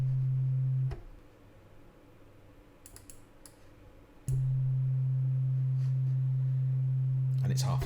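A steady low pure sine tone sounds alone for about a second, cuts out to a quiet stretch with faint clicks, then returns just as loud and holds for several seconds, formed by two identical sine waves playing perfectly in phase.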